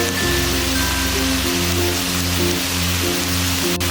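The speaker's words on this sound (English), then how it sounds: "Turn the heat back up to high and stir fry for a few more seconds or until the peppers turn darker." Beef and pepper stir fry with light and dark soy sauce hissing in a very hot pan over high heat, a dense, steady sizzle with a low rumbling hum underneath throughout.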